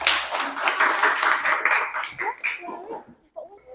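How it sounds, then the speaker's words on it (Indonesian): Students in a classroom clap for a group after its presentation, a short burst of moderately loud applause that thins out toward the end, with some voices mixed in. "Berikan tepuk tangan untuk kelompok"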